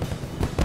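Fireworks bursting in a short, loud burst of booming low thumps and crackle, two swells close together for the Ford fireworks show.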